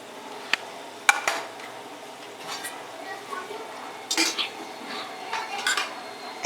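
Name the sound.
mixing and sautéing cumin paste masala for fish curry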